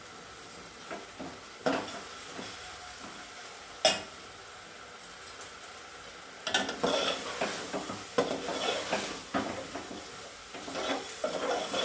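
Tomato dal being added to a pan and stirred, with scraping and sizzling clatter that stays soft early on, then turns busier and more continuous in the second half, with occasional sharper knocks of a utensil against the pan.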